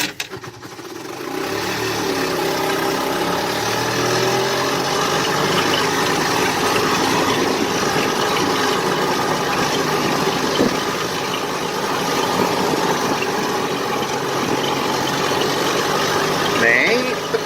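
A rebuilt 1988 EZGO golf cart engine runs steadily on a test drive, giving a loud, continuous drone with road and wind noise throughout.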